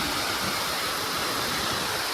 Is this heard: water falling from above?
yes